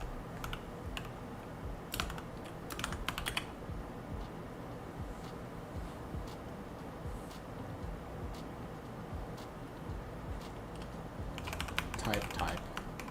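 Computer keyboard typing comes in scattered bursts of close, crisp keystrokes, clustering at the start and again near the end, over a low steady background hum.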